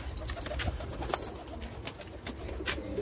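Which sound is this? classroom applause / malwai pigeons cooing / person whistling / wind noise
malwai pigeons cooing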